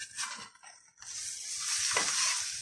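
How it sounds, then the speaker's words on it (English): Bacon and mushrooms frying in a pan are stirred, with a steady close sizzle and scraping utensil strokes against the pan, and no talking. "Carry on stirring that until you've got something like this."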